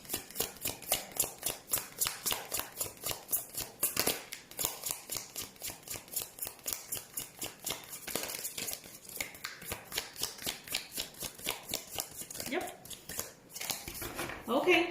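Rapid, rhythmic riffling of tarot cards being shuffled up close, repeated in quick bursts over a quiet background.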